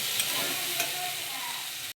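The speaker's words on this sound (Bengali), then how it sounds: "খুলে একবার নেড়ে দেবো আর একবার" Potatoes and spring onions being stirred as they fry in a pan, a steady close sizzle with scraping stir strokes, stopping abruptly near the end.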